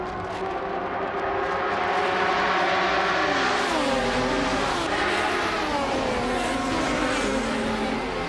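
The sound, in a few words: Maserati MC12 race car engine in a racing video game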